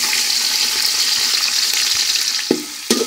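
Chopped onions hit hot oil with whole spices such as cloves, cardamom, cinnamon and mace, giving a steady bright sizzle, then two sharp stirring scrapes near the end.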